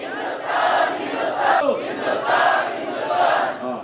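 A large crowd at a Hindu Samajotsava gathering near Marasur Gate, raising saffron shawls, shouts loudly in a few long, swelling bursts, close and full, with no break in the noise.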